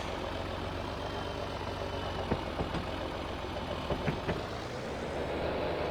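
Tractor engine in a driving game labouring steadily against a heavy truck, a low continuous drone with a few sharp clunks and knocks partway through, moderately loud and alone with no talking.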